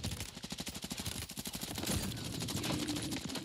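Rapid automatic gunfire in Call of Duty Warzone, a fast burst of close, loud shots for about two seconds, then a dense rumbling wash of fire and noise without talk.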